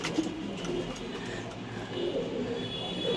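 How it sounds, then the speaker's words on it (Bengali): Racing pigeons, separated hens, in a loft coo in low, rolling calls that repeat at a quiet distance over a faint steady background hum. "এই যে এখানেও কিছু কবুতর আছে"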